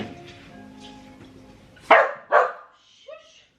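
Two sharp, loud dog barks close by, followed by a softer yip, breaking over quiet background music in an indoor home workout space.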